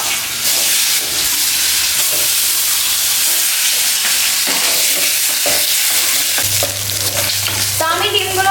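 Eggs frying in a pan with chili powder, a loud, steady close-up sizzle and hiss with stirring scrapes throughout and a low hum rising near the end, no voices.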